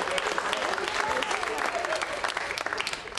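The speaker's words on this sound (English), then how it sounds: "Give yourselves a round of applause." A theatre audience at a comedy show at the Lakewood Cultural Center breaks into a steady round of applause, a full, even wash of many hands clapping that fills the hall and tapers slightly at the end.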